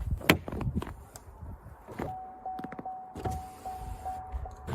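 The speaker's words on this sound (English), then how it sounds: "turn the car on and roll the window down just a little bit" A Chevrolet Tahoe's power window motor whirs steadily as the glass rolls down, accompanied by a few clicks and knocks nearby.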